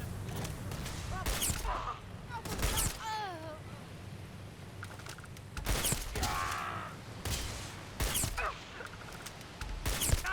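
Several sharp bursts of weapon fire from Starfield, each a loud broadband crack spaced a second or two apart, with mechanical whirring and tonal effects between shots.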